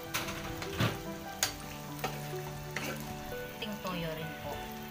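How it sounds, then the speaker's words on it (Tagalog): Ingredients sautéing in a frying pan, a steady loud sizzle with occasional scraping clinks of a spatula or spoon stirring, up close in a home kitchen. "Habang igigisa po muna natin."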